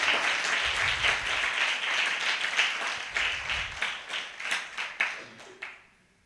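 A church congregation at a Christmas sermon claps loudly and steadily for several seconds, a dense wash of applause that breaks into a few separate claps before stopping abruptly.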